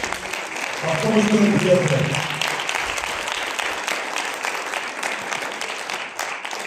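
A church congregation claps together for a few seconds, a dense burst of applause that fades back while someone speaks over it and carries on talking.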